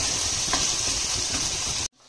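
Chopped tomatoes sizzle steadily in a hot pan while a mutton curry is being cooked, a dense close frying hiss with faint scraping, cut off abruptly near the end.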